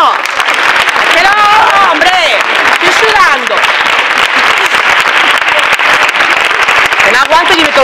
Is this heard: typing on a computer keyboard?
no